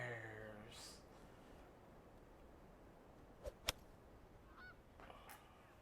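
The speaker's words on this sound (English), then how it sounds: "All right, we hear the geese out there." Geese honk outdoors at a distance, a few faint calls early on over low ambient noise, followed by a couple of sharp ticks or clicks.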